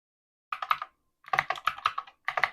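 Fast typing on a computer keyboard, close and clear, in three quick bursts of clicking keystrokes separated by short silent pauses.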